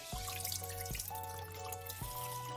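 Rice is being rinsed in a bowl under running tap water, giving a steady trickle with a few splashing shifts as the grains are swished. The sound is fairly quiet and no one talks.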